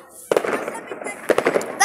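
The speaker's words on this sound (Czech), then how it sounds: "mají vzadu ohňostroj" New Year fireworks go off in the distance, sharp bursts and crackles in quick clusters with quiet gaps between, while people talk nearby.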